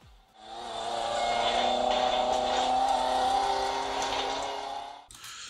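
Car engine in the racing video game Real Racing, a steady, loud revving drone that holds at high pitch for about five seconds and then cuts off abruptly.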